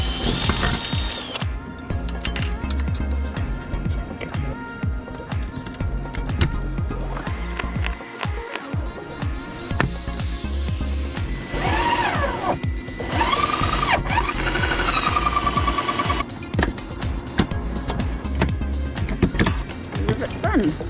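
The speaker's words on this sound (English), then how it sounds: "I'm going to rivet it on the brackets that he prepared earlier." Roof rack brackets are riveted onto a Ford Transit van during a campervan conversion, with loud, close mechanical bursts and clicks from a rivet tool over steady background noise, mixed with speech.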